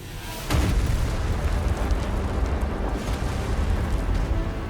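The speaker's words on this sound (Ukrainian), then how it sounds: "головна зброя бліцтрагера, яка по-справжньому вселяє жах, спопилить вас, якщо встанете на її шляху. До вашої уваги гіперіон." A Hyperion superweapon blast in the World of Tanks Waffenträger event erupts as a sudden deep boom, then rolls into a sustained heavy rumbling roar that continues to the end.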